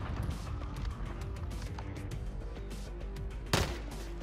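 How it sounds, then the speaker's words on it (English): Dense, continuous rifle fire from a teammate in Modern Warfare, steady and close, with one sharp louder crack near the end. "Our teammate's shooting at me."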